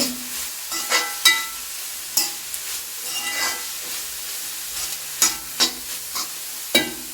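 Green beans being stir-fried with a handful of grated coconut for Kerala mezhukkupuratti, a steady sizzle broken by repeated sharp scrapes and clanks of a spoon stirring in the pan.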